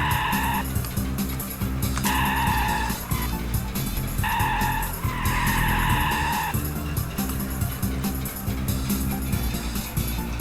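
Racing cars in the video game Trabi Racer drive around a track, with a steady engine drone and repeated bursts of sharp tire squeal as they skid through corners, loud and continuous.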